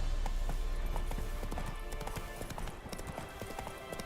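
Roach the horse trotting in The Witcher 3, a steady, close clip-clop of hooves repeating in a quick rhythm at moderate loudness with no voices over it.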